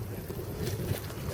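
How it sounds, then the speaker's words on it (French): Wind gusting across a microphone in the mountains on the Tour du Mont-Blanc as a drone takes off, a steady low rumbling buffet with no voices. "Il y a un peu du vent."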